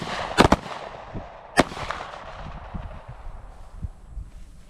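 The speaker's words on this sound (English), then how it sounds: "One round. Just press the trigger until it goes bang." A single sharp pistol shot cracks out at a basic pistol course shooting range, a loud close report with a brief second bang just after, then quieter range noise and faint movement.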